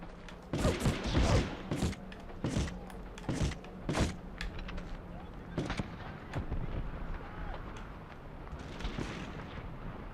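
Several sharp gunshots ring out in irregular bursts over a quieter game background in Medal of Honor: Underground, fairly loud, then fade into low ambient noise.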